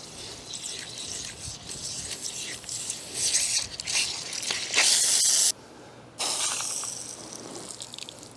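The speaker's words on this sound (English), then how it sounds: "Let me shut the water off, try to release this pressure, because I have a feeling I'm going to get soaked when I do that." Water sprays out in loud hissing bursts as pressure is released from a repaired PVC pipe, surging stronger, cutting off abruptly for a moment, then resuming with a steady rushing spray.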